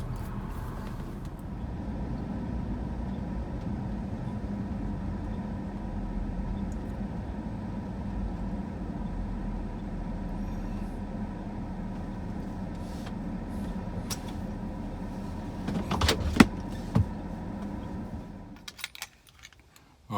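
Steady low rumble of a car driving, fairly close and continuous, easing down toward the end as it pulls up to a property, with a few brief clicks and knocks near the stop.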